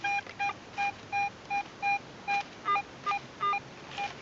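A Garrett AT Pro metal detector gives a string of short, evenly spaced electronic beeps, about a dozen in four seconds, as its coil sweeps over a buried target at a WW2 camp site; the tones are clear, near and unaccompanied by talk.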